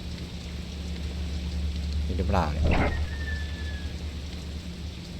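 Steady rain hisses through a scene of the horror video game Fatal Frame: Maiden of Black Water, a continuous wash of downpour with a voice briefly talking over it midway.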